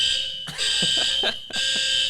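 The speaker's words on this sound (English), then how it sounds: "this thing is the purge alarm at my building" Building purge alarm in an apartment blaring a loud, shrill electronic tone in repeated bursts, broken by brief gaps, with faint knocking underneath and no voices.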